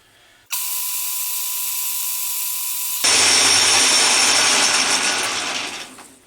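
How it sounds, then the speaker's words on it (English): Metal lathe taking a light skim cut on a steel bolt for garden shears, a loud steady mechanical whine that starts abruptly, grows harsher and louder midway as the cut engages, then fades out. "I'm just going to take a skim cut there."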